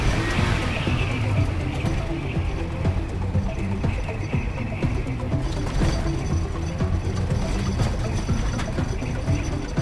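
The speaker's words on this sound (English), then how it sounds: "The long logging truck is gaining momentum to climb the hill" A long logging truck climbs a forest hill with its engine in a loud, steady low rumble. Clattering and knocking ride along on top of it the whole time.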